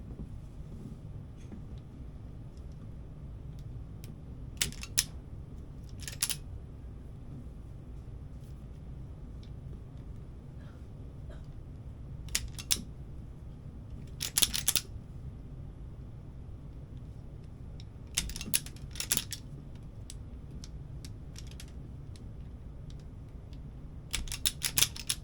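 Wire cutters snipping trailer wiring, a handful of sharp isolated clicks spaced several seconds apart, sometimes in quick pairs, over a faint steady background rumble with no talking.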